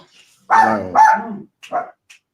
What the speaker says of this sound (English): Can't hear you over the dog.